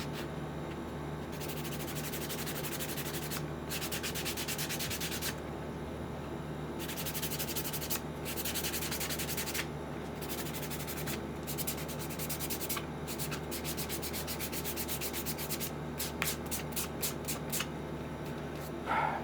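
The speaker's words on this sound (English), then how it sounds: "So we'll hit this with a little bit of wet sand" Sandpaper rubs back and forth across a car body panel in bursts of steady strokes, close and continuous with brief pauses, turning to quicker short strokes near the end.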